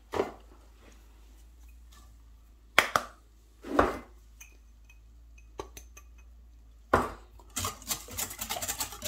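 Liquid cream being mixed in a bowl for an apple tart, with a few scattered clinks and scrapes of utensil against the bowl, then a quicker run of light tapping, close and fairly quiet.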